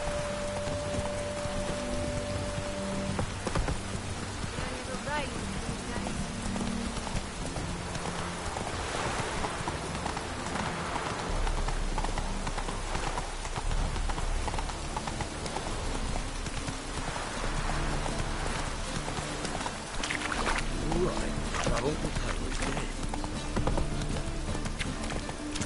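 The horse Roach clip-clopping through rain in The Witcher 3, with steady hoofbeats over a constant patter of rainfall and a low rumble joining partway through.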